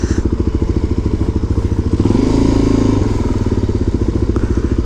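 A Yamaha R1 motorcycle runs at a go-kart track, its loud, close engine pulsing steadily and swelling briefly as the revs climb midway.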